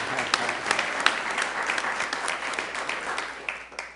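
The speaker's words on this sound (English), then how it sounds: "Could give him a round of applause." A crowd at a city council meeting gives a brief round of applause, a dense patter of clapping that stays fairly even and then tapers off.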